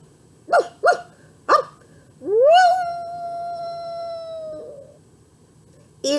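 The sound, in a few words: voice imitating a dog singing or howling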